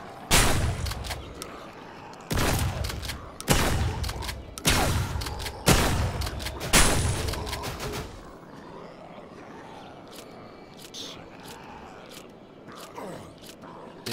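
Five loud, sharp shotgun blasts in HumanitZ, a zombie survival video game, fire about one second apart, each with a booming tail, followed by quieter mechanical clicks and faint movement noises.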